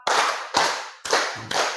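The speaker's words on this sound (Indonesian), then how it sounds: "Kita coba tepuk 4." Four sharp hand claps in a steady, even rhythm, close and fairly loud with nothing else sounding between them.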